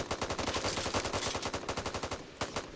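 Rapid automatic gunfire from the zombie shooter game Back 4 Blood, a loud, close stream of evenly spaced shots with a brief pause before a final burst.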